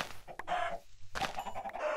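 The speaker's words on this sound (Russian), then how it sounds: "Я слышу курицу." A chicken in the Minecraft video game clucks in short, clear bursts near the listener, over faint game background.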